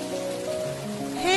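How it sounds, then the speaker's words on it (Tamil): Heavy rain pours down in a steady, dense hiss close by, with a rising tonal whine entering near the end. "செம்ம மழை."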